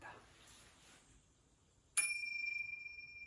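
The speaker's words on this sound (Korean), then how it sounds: "종소리 한번 듣겠습니다." A single meditation bell is struck once, ringing out clearly after a quiet breath and sustaining with a long, pure, slowly fading tone; the setting is a guided breathing meditation session.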